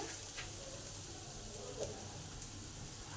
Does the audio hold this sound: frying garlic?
yes